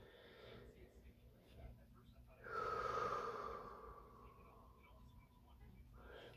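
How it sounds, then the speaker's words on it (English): One long, deep breath drawn in through the diaphragm, a close, breathy rush lasting about a second and a half, with quiet room noise around it. "deep, deep, deep breath."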